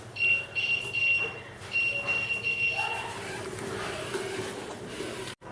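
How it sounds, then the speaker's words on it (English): Obstacle warning buzzer on a walker built for the blind: a high electronic tone pulsing in short, evenly spaced beeps, then a longer run, with background noise and faint voices. "the buzzer sounds."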